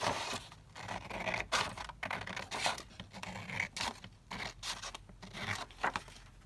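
Scissors cut through sheet music paper from an old song cover in a run of close, crisp snips and rustles, with no talking over them.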